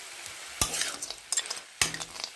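Fried lentil dumplings are stirred into spinach in a pan, with soft sizzling under a few distinct scraping strokes of a spatula against the pan, quiet and close, with no talk.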